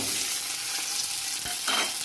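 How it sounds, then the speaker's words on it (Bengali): Chopped onions sizzle steadily in hot oil in a pan after a chili tempering, a dense continuous frying crackle with a couple of brief stirring scrapes, close and fairly loud. "দিয়ে আর এই পেঁয়াজ ভাজাটা দিয়ে দেবো, পেঁয়াজ কুচিটা।"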